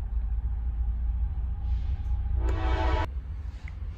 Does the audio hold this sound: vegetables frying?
no